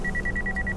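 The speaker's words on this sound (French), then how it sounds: "c'est le téléphone dans mon pantalon" A mobile phone rings inside a trouser pocket, giving a fast, evenly pulsed electronic beeping tone. It repeats about ten times in under a second, fairly loud and close, over a low background rumble with no speech.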